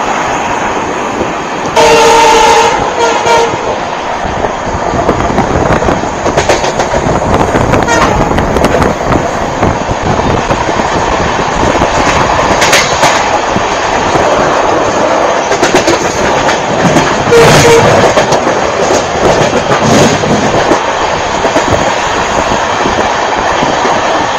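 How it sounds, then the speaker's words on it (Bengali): Train running at speed, around 80, a loud steady rumble and rattle of the cars from on board with scattered clanks and brief squeals, faint voices underneath. "ট্রেনের স্পিড এখন বেড়ে গেছে, প্রায় 80-তে চলছে।"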